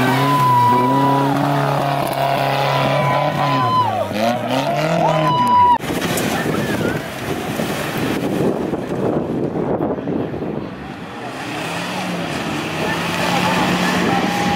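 A 4x4 off-road car revs hard at an extreme off-road challenge at Champagne Park, Kipeto, Kajiado, in 2021. The engine pitch climbs and falls loudly, with wind buffeting and crowd voices.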